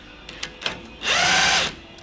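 A power ratchet whirs for about a second during a Mini steering rack change, after a few light clicks and knocks, with a close, high-pitched spin that ends abruptly.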